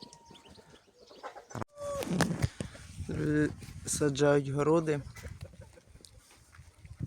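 Hens cluck and call close by in a few bursts, with turkeys among them and a person speaking briefly over the birds.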